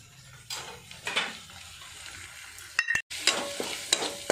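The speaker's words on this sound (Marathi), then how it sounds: "आता मी छान असं याला फ्राय करून घेते." Spices such as red chili powder and masala are stirred and fried in a pan for a spicy soybean and pea curry. A soft, steady sizzle runs throughout, broken by sharp utensil scrapes and taps against the pan.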